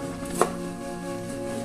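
A single knife chop through an onion lands once, crisp and brief, over a quiet kitchen background.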